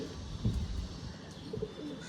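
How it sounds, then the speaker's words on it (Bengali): Pigeons of a fancy breed cooing softly nearby in low, rounded murmurs, a few brief coos rising over a steady background hum. "সেকেন্ড জোড়াটিকে ছেড়ে দেখানো হচ্ছে জাস্ট পায়রার কোয়ালিটি আপনারা দেখুন"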